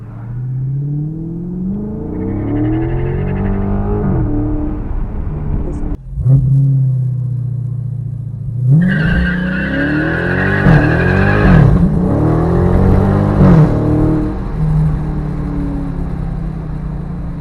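A Dodge Scat Pack revs hard as its tires spin and squeal with traction control on, the engine note climbing and falling in repeated loud bursts, close by, with voices talking over it.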